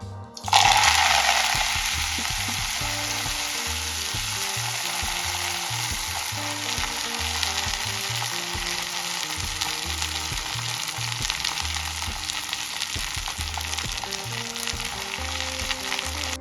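A loud, steady sizzle of chickpea greens frying in hot oil in a kadhai, starting abruptly and holding for the whole stretch with faint stirring clatter underneath.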